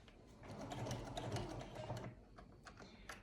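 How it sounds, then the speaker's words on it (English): A sewing machine fitted with a walking foot stitches the seams of a flannel and cotton rag quilt, giving a steady, quiet mechanical whir with fast needle clatter that fades toward the end. "I do have a walk-in foot on my sewing machine, and I let it do all of the pulling of the fabric."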